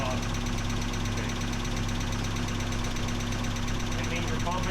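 A Mazda Miata engine idles just after an oil change, a dense, steady running drone with a faint knocking texture and voices talking over it.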